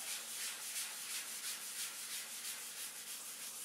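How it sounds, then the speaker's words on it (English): Soft, rhythmic rubbing of fine 600-grit sandpaper over a smooth aircraft wing surface, quiet strokes repeating evenly with a faint hiss. "just a light sanding"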